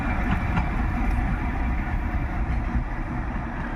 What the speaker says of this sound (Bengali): শিলিগুড়ির উদ্দেশ্যে চলে গেল ট্রেন।